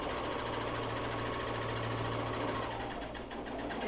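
A serger stitching a seam on underwear fabric: a steady, fast mechanical whir with an even motor hum, close and continuous, easing slightly near the end.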